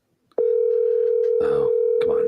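A steady, continuous telephone tone sounds as an outgoing call rings through, holding one unbroken pitch while voices talk over it in the middle and near the end.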